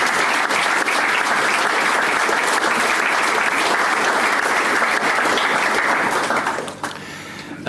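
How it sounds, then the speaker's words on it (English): Audience applause at a memorial celebration of life, a loud, dense burst of clapping from a room full of people that holds steady for several seconds before thinning out near the end. "I think we should applaud you."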